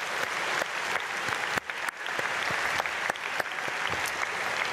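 A church congregation at an early-morning prayer service claps for a student, a steady crowd applause with a few sharper individual claps standing out, moderately distant and even.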